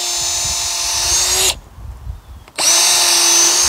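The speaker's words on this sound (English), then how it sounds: "And then I just pre-drill." A power drill pre-drills through spare wood for a DIY raised garden bed, a loud steady whine for about a second and a half, a brief pause, then a second burst of drilling.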